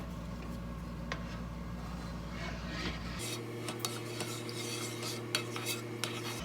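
Vegan gravy thickened with cornstarch, with garlic and onions in it, is stirred in a pan over medium heat, giving soft scraping and light clinks of a utensil over a low steady hum, close and quiet, without speech.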